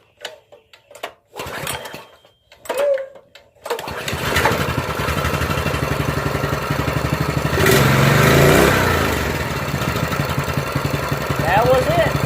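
A Predator small engine on a Panther go-kart sputters through a few short start attempts, then catches and runs at a loud, steady, close-up chug.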